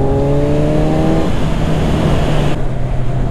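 Kawasaki Z1000R naked motorcycle riding, engine loud and close with a steady harmonic drone that drops in pitch as it shifts, plus strong wind rush; no talking.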